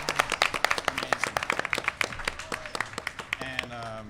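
A crowd at a Kingdom Hearts 20th anniversary in-person celebration claps and applauds in a dense burst of hand claps that gradually thins, with voices and cheering mixed in.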